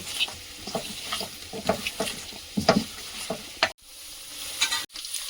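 Potatoes fry in a pan of oil, a soft sizzle broken by repeated scraping stirs of a spatula, close and fairly quiet with short pauses near the end.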